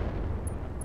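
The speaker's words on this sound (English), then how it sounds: "looks like we got the barrage on" Artillery barrage explosions in the mech combat game Roguetech, a dense, continuous low rumble of blasts filling the whole short moment at steady loudness, with no talking.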